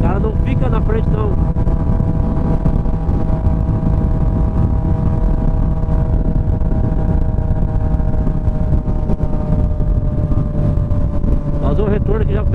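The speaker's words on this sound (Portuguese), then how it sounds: "na hora que ele escuta o som da moto, já sai da frente" Honda CB 1000R motorcycle fitted with only an open exhaust pipe drones continuously while riding along a highway, its steady engine tone loud and close with small shifts in pitch.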